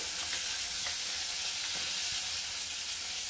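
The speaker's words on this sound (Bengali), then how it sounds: "মাছটা তো ভাজা হচ্ছে" Fish sizzles and spits steadily in hot oil in a pan while being fried for a South Indian style fish curry, a dense, continuous crackle with no voices.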